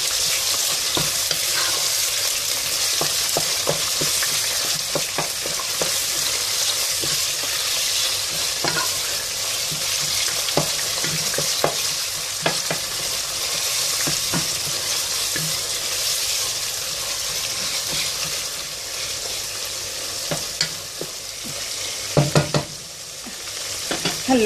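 Ground meat with pine nuts and onion being stirred in a hot pan for spinach stew, a steady loud sizzle of frying with repeated scraping stir strokes throughout, no voices.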